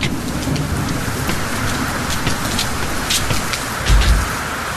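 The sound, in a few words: heavy rain outdoors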